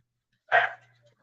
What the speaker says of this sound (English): I'm going to go peek over the balcony and see who the hell she's barking at.